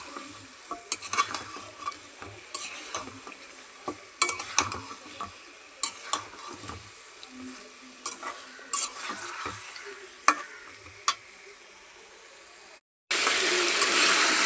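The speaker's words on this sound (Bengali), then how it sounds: "এই যে মুরগির গোশত দিয়ে আর আলু দিয়ে আমি ভালো করে কষাই নিছি।" Chicken and potatoes stirred and fried in a pan, with steady sizzling broken by repeated sharp scrapes and clatters of the spoon, close and alone without talk.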